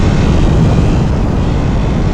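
A 2001 Honda motorcycle engine pulling hard with the throttle wide open, a loud, continuous, rough roar with heavy wind rush, close and steady throughout.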